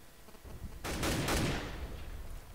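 A short burst of gunfire during a Counter-Strike esports match, several quick shots in a row, fairly faint and over within about a second.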